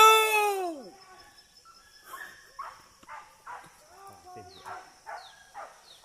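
Hunting dogs on a morning hunt near Ngalau Baso, Bukittinggi, give a series of sharp, repeated barks and yelps, mixed with people shouting and calling nearby.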